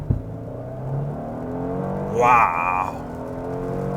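Genesis G80 Sport, a 2022 model, launching hard on full throttle in wet, rainy conditions, the engine note rising and swelling mid-clip before easing, heard from inside the car with a brief exclamation from an occupant.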